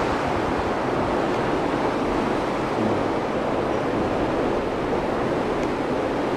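Steady wind noise during a storm with wind and light rain, a dense continuous roar buffeting the microphone at a constant level throughout, with no voices.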